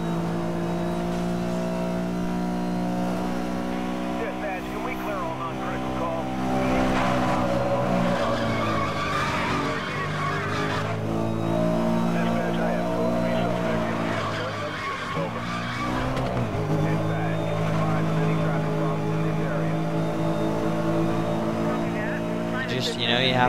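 Racing cars in Need for Speed: Most Wanted, a Lamborghini and a BMW M3 Coupe battling in a sprint race, roar steadily with rising and falling engine revs and tire skids, loud throughout, with someone talking over them.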